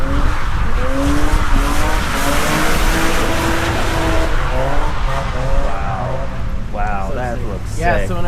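Drift cars squeal their tires on the Touge course at Ebisu Circuit, a mountain-pass drift track in Japan, with sustained loud tire screech and engine roar running throughout while people talk over it.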